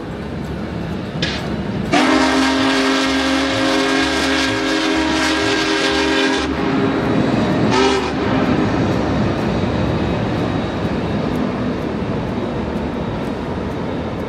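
The Big Boy steam locomotive on the Feather River route blasts a loud, sustained horn for several seconds, then a shorter blast, as the train rumbles past continuously.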